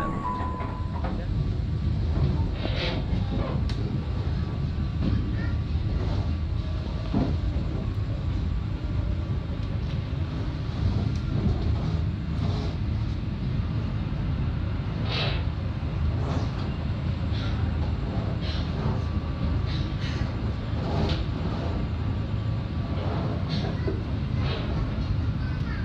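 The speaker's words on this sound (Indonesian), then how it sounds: "kereta api Banyu Biru udah diberangkatkan dari stasiun Brumbung" Banyubiru passenger train pulling away from Brumbung station on the Solo–Semarang run, a steady low rumble and rattle of rolling carriages with faint higher clatter throughout, continuous and fairly loud.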